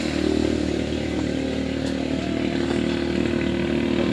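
A motorcycle engine runs steadily and loud in a workshop during a wiring and CDI spark check, a constant rough drone with no rise in revs and no voices over it.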